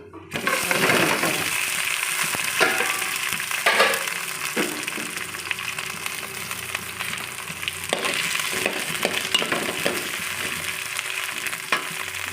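Green chillies and two tomatoes fry in a little oil in a pan, producing a dense, steady, close sizzle with occasional stirring scrapes and bubbling.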